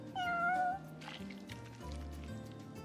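A cat in the Final Fantasy XV video game gives one clear meow while eating, followed by quieter in-game sounds.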